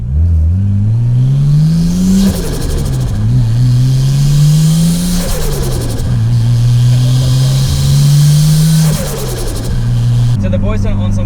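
A car fitted with an aftermarket turbo kit revs loudly and repeatedly, its engine pitch climbing and dropping in several sweeping pulls close by, with faint voices partly masked beneath the engine.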